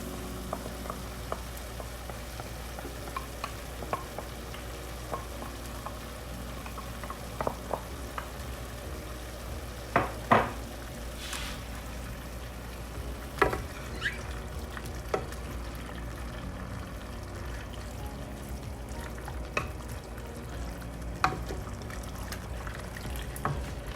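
Sirloin beef simmers in teriyaki sauce with a steady low sizzle and bubbling, scattered light clinks and pops rising now and then above the constant frying hiss.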